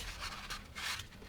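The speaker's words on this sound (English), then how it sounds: "I like to burnish this in with the bone folder" Bone folder rubbing across paper on a punch-board envelope, a soft continuous scraping with a few louder strokes, close and alone.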